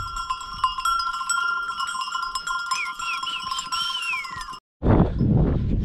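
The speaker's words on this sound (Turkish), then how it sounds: "Şöyle koyunları yukarıya saldık." A flock of sheep released uphill at a mountain farm, bells clanking in overlapping ringing tones with occasional bleats, fairly close, followed by a brief silence and a louder rustling burst at the end.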